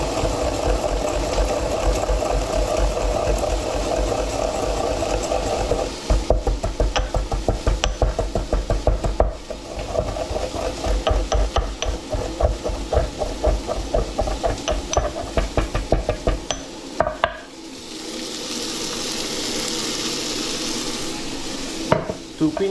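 Tomatoes and cumin seeds sizzle in a hot pan for a lentil soup while a spoon stirs them, giving steady frying hiss with a run of scraping, knocking stirs, then settling into a softer sizzle.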